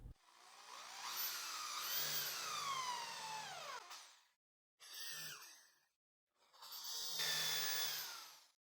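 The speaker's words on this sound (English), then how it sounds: "At the 3 points, I will drill using a 3 millimeter bit, and the countersink will be done with 10 millimeters." A drill driving a 3 mm bit into wood for countersunk screw holes sounds as three loud, whining bursts of motor and cutting noise, a long one followed by two shorter ones separated by brief silences.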